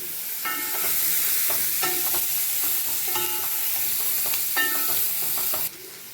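Cheera greens sautéing in a pan, a steady sizzle with repeated scraping and tossing strokes of a spatula in a loose rhythm, close, cutting off abruptly near the end.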